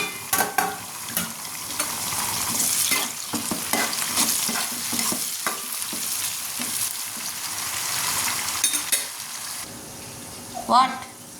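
Two small tomatoes frying in a pan for a fish curry, a steady sizzle under repeated scraping and clinking of a stirring spoon, close by, with a brief voice and a louder clatter near the end.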